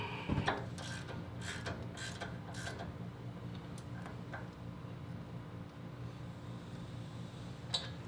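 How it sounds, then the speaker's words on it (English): Ratchet on a half-inch drive tightening 17 mm brake caliper bracket bolts on a 2nd-gen Toyota Tacoma, a series of faint mechanical clicks over a steady low hum, with no talk. "Alright, we're gonna bolt up this bracket back."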